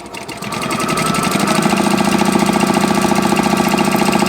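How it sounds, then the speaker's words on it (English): Sewing machine stitching a quilt block seam, a steady fast mechanical whirr with rapid needle clatter that rises quickly to full speed and runs loud and close without talk. "Turn it around, sew the other line."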